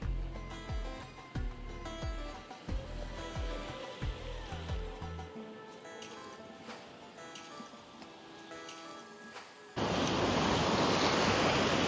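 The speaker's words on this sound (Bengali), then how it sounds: "ওয়েভসের আওয়াজটা, এই হাওয়াটা।" Sea waves break and wind gusts on a beach; soft, fairly faint washing surf with some ticking at first, then a sudden loud burst of wind buffeting the microphone near the end.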